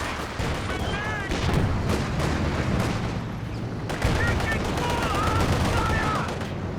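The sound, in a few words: gunfire from video game Company of Heroes 2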